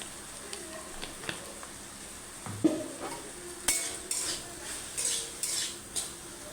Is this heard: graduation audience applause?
no